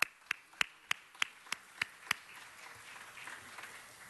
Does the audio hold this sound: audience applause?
yes